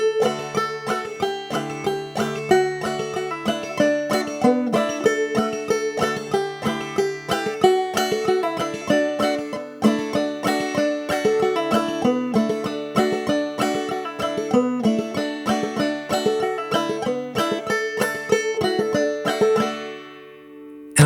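A banjo plays a song at a slow, even pace, with bright picked notes in a continuous rolling pattern, close and clear with no voices.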